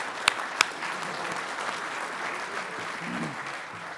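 Audience applause at a farmers' union general assembly, a couple of sharp nearby claps at the start followed by a moderate, steady patter of clapping from a seated crowd, with a faint voice low underneath.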